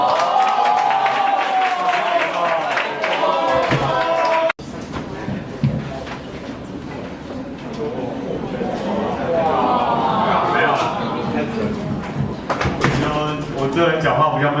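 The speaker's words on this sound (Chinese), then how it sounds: "大家请他掌声欢迎" A lecture-hall audience at a student book-sharing event claps and murmurs to welcome a speaker, with broad crowd noise running throughout and voices talking over it.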